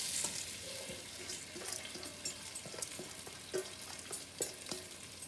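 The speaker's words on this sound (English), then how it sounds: "This little ghee is to parch the rice a little before you add any other thing into it." Rice parching in a little ghee in a pan for kheer, with a steady bright sizzle and crackle under repeated scraping and stirring strokes, close and continuous, with no talking.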